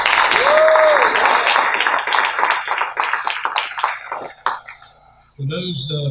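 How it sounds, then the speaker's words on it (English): Applause from a crowd at a cooperative annual meeting, dense clapping that thins into scattered individual claps and fades out, after which a voice begins speaking. "Let's give our entertainment another round of applause"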